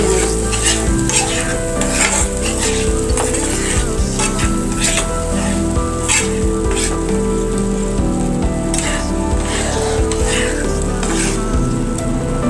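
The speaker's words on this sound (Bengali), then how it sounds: "ডাল দিয়ে ভালো করে ভেজে নিব।" Lentils and dried chili fry in a pan, giving a loud, continuous sizzle and crackle with repeated stirring scrapes throughout and a rain-like spattering texture.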